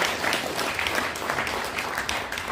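Audience clapping at an academic seminar in Korea, a crowd applauding a pastor's address, with individual claps standing out at fairly close range over a steady background of many hands.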